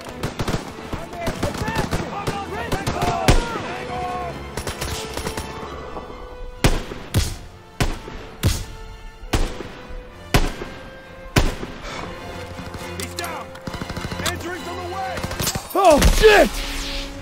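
Artillery and gunfire in a Call of Duty WWII battle: repeated sharp blasts and bursts, some near and loud, some more distant, over music, with soldiers shouting throughout.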